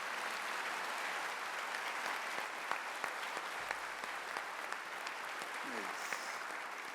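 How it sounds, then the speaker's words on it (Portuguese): A church congregation at a Corpus Christi solemn mass applauds, producing a sustained, fairly soft wash of many hands clapping, even and unbroken throughout, with a few louder individual claps standing out. "Aplaudamos o nosso alimento."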